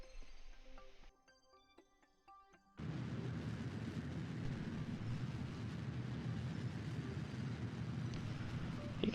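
A rocket engine in a space-flight game kicks in at full throttle after a brief quiet pause, settling into a loud, steady, broadband roar that continues to the end.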